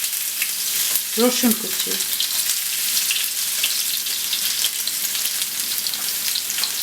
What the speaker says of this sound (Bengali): পেঁয়াজ কুচি সামান্য একটু, এটাকে ভেজে নেব